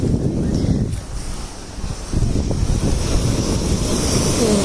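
Sea waves rush and roar close by on a beach at night with a high sea, a loud continuous surge that dips briefly before swelling again, with wind buffeting the microphone.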